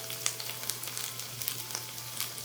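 Potatoes fry in a skillet for a diner-style breakfast, giving a steady close sizzle with light crackles and pops throughout and no talk.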